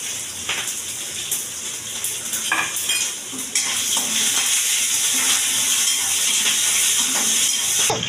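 Sesame seeds dropped into hot oil for a dhokla tempering sizzle and crackle loudly and steadily, with a louder burst of frying partway through and occasional scrapes of stirring, with no talk.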